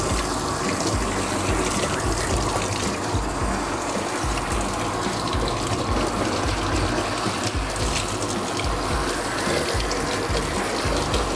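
Continuous spray of running water hisses steadily from a shower head up close while rinsing a Bichon Frise's face, unbroken for the whole stretch with a faint mechanical rattle underneath.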